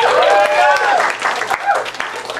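An improv show audience briefly applauds and claps, with a voice talking over the clapping throughout.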